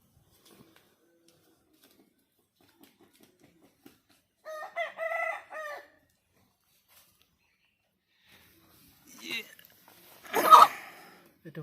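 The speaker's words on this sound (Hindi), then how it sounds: "ये तगड़ा मुर्गा था, पूरा एकदम करते ही खड़ा हो गया" A desi rooster in a quiet yard gives two separate outbursts: a short run of harmonic crowing and clucking, then after a long silence a louder, harsher cry, close and otherwise alone.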